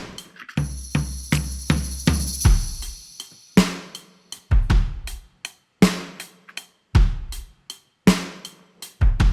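Programmed drum beat from the Addictive Drums Fairfax library, punchy kick and snare hits in a steady groove, with a tambourine roll and a sustained tone early on, close and dry with no voices.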